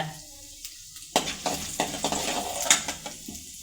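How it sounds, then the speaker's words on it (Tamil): Urad dal and chana dal sauté in hot oil for coriander chutney, a soft frying sizzle broken by a spoon scraping and clinking against the pan in irregular strokes. "உளுத்தம்பருப்பு கொஞ்சம் போட்டுக்கோங்க, கடலப்பருப்பு கொஞ்சம் போட்டுக்கோங்க. போட்டு கொஞ்சம் வதக்கி விடுங்க."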